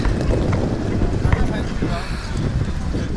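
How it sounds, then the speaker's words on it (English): Heavy wind buffets the microphone on a cold, windy day in China with a constant low rumble and roar throughout, steady and loud with no pauses. "It's very windy and cold."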